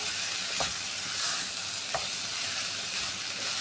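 Tomatoes frying and being stirred in a pan for a puri sabzi, a steady sizzle with a couple of soft scrapes from stirring, no voices.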